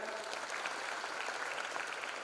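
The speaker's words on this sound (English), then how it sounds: "Give a big applause to them" Crowd applause for faculty members at a freshers' induction programme, a dense continuous patter of many hands clapping at even volume from start to finish.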